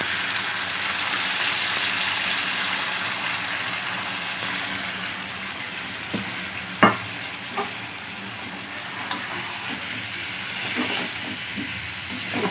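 Marinated paneer frying in a pan with fried potatoes gives a steady, close sizzle and hiss, broken by a few sharp clinks and scrapes of stirring.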